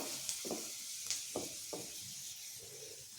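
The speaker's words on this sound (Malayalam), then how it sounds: "എണ്ണ നന്നായി ചൂടായിട്ടുണ്ട്. അതിലോട്ട് അല്പം കടുക്," Mustard seeds and a dried red chilli crackle in hot oil, a faint steady sizzle broken by several sharp pops and spatters.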